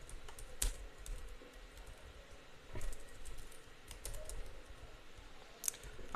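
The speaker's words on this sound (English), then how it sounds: "So let me just type it in." Close, quiet tapping on a computer keyboard in an uneven run of keystrokes with a few louder clicks and short pauses, with no voices.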